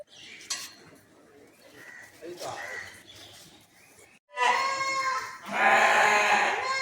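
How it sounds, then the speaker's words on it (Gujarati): Sheep and goats at an animal shelter (panjrapol) in Patan, Gujarat bleat loudly and close by in two strong calls near the end, after a stretch of quieter mixed sounds and voices. "ઘેટા બકરા બર પછી લગભગ 150ની સંખ્યામાં છે"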